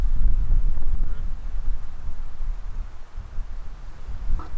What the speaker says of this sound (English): I know it's probably pretty windy